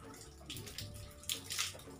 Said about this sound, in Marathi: पाझरून पाणी आलेले.